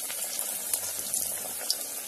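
Vegetable cutlets go into hot oil for deep frying over a medium flame. A steady close hiss of sizzling oil carries a few faint crackles and pops, and no one speaks.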